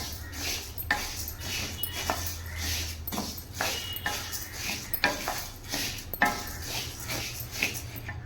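Lentils are dry-roasted in an iron kadai: a steady scrape and clatter of a metal spoon against the pan with repeated clinks, over a constant low hum of the stove, close up and with no voices.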